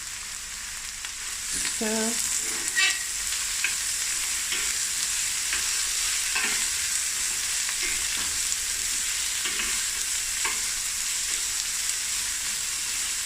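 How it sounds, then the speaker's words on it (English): Chicken wings fry in a pan with a steady, moderate sizzle and occasional louder pops and crackles, close by with no talking. "And this is going to fry for about 5 to 10 minutes."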